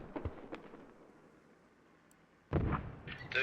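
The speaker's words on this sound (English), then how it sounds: "Hell cannon coming in." A hell cannon mortar in the video game Squad fires with a sharp, heavy boom early on, followed by quieter rumbling and then a loud burst of blasts and crackling near the end.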